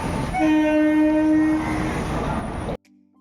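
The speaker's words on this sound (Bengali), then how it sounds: "আমাদের ট্রেন কিন্তু হুইসেল দিয়ে দিয়েছে" A loud, sustained horn from the Howrah–Lalkuan Weekly Superfast Express blares close by as it departs, over rumbling rail noise, then cuts off abruptly into near silence.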